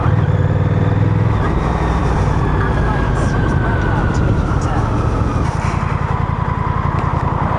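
A Honda Rebel CMX 1100 motorcycle rides along with a loud, steady engine drone under heavy wind rush. The engine note shifts as gears change, and it takes on a rougher, pulsing throb near the end.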